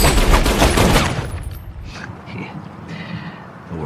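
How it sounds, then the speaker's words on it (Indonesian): Gunfire in an action film fight scene, a burst of loud shots at the start that fade into a quieter, rumbling aftermath. "Di tengah pertarungan, Mei mengambil pistol lalu menembak kaki Alex"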